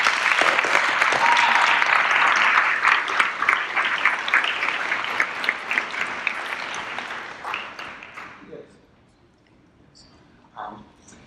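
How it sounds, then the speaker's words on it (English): An audience at a community center board meeting gives a departing board member a round of applause, dense steady clapping that thins into scattered claps and dies away near the end, followed by brief quiet. "join me in a round of applause for Steve"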